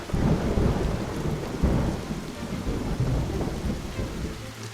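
Thunder rolls in a storm with heavy rain, deep rumbles surging and fading alongside a steady downpour hiss, loud and close throughout.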